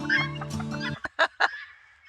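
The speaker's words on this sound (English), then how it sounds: "Sharing their food with the old guinea fowl." A guinea fowl calls close by in a rural yard, giving a few short, harsh clucking squawks that follow a fuller, busier burst of mixed sound, then trail off into quiet.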